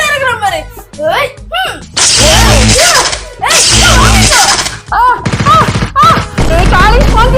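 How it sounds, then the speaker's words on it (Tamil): Cartoon-style fireball special-attack effects in a comedy miniature-cooking skit, loud and repeated as bursts, whooshes and crackling blasts mixed with high-pitched voices. "அப்புறம் ஏன்னா என் மேல ஃபயர் பால போடுறீங்க?"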